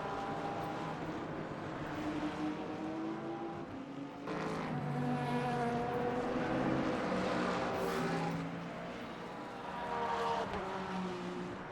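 A McLaren race car in Le Mans Ultimate during a multi-class race at Bahrain, engine droning steadily and loudly, rising and falling in pitch as it brakes into a hairpin and accelerates, with other cars around.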